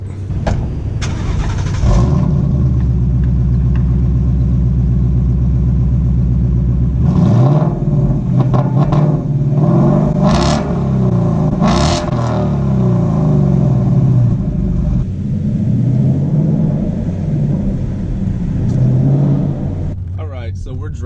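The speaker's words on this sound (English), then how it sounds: "It's a high revving engine, makes most of its power up top." A 2015 Ford Mustang GT V8 engine idles with a deep rumble, then revs up sharply several times, each rev rising and falling back to idle.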